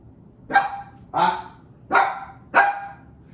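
A dog barks four times in a slow, evenly spaced series, each bark sharp and loud at close range, with quiet gaps between and no other sounds.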